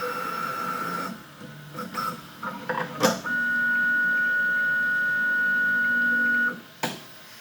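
An Ultimaker S series 3D printer unloading filament whirs and clicks briefly, then a steady high electronic whine holds for several seconds as the nozzle heats, before stopping with a soft clunk.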